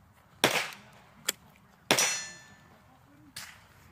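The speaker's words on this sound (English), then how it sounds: "Mag went in, no problem." A 15-round ETS magazine seated into a brand-new Spikes Tactical AR9 9mm rifle with a pistol brace: sharp metallic clacks and clicks, a few separate close impacts with quiet gaps between them.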